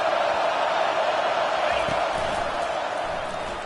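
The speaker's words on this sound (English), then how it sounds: "Decibels rising as the crowd gets behind this defense on 3rd down." A packed stadium crowd roars on third down in an NCAA/Madden football video game, a loud continuous wall of cheering noise that holds steady and eases slightly at the end.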